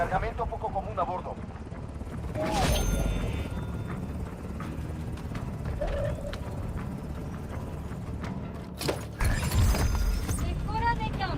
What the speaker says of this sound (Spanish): Helicópteros de suministros en camino.